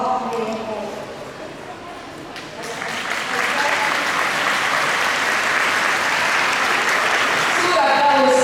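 Audience applause at an anniversary concert, starting as a quieter patter and then swelling into dense, sustained clapping from a large crowd that holds steady through to the end.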